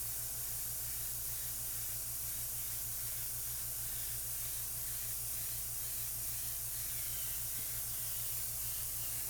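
Airbrush spraying acrylic paint for a background: a close, steady, unbroken hiss of air and paint running for the whole stretch, with a low mechanical hum from a compressor beneath it and no talking.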